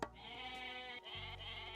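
Goats bleat in a video game, one continuous wavering bleat that fills the whole moment, loud and close with a short break near the middle.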